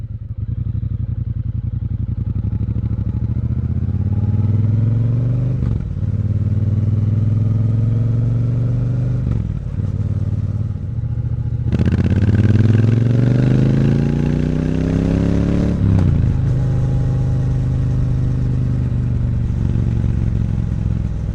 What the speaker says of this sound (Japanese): 体の芯から揺さぶる太い排気音と鼓動感ですね。